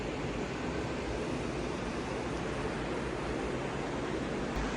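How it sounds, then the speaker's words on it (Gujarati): Steady, loud rushing of a river flowing near Manali fills the scene as a constant broadband roar with no pauses and no voices. "અવાજ આવે છે ને, આ નદીનો આવે છે."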